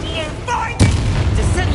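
A Bombarda spell explosion in the Hogwarts Legacy video game hits as a sharp, loud blast midway, followed by a rumbling low tail, with faint game sounds before it.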